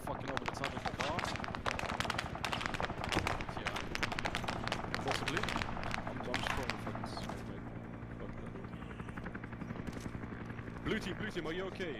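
Rapid bursts of machine gun fire in the ArmA combat game, dense crackling shots layered with other gunfire and battlefield noise, loud and continuous, with voices talking over the shooting.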